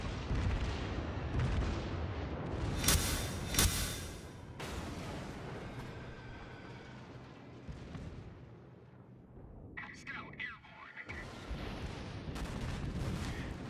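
Secondary guns on a Fuso battleship in World of Warships fire a rapid series of heavy booms and rumbling blasts, with loud volleys early on and broad explosive rumble continuing throughout.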